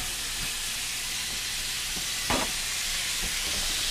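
Short rib steaks brown in a hot pan with a constant bright sizzle, broken by a sudden louder spit and crackle partway through.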